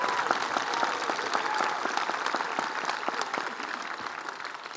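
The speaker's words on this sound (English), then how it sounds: "Please give yourselves a big round of applause." Graduates at the Laguna College of Art + Design 2024 commencement applaud themselves, a large crowd producing dense, sustained clapping that fades slightly toward the end.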